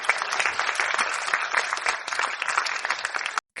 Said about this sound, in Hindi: बच्चों ने ताली बजाई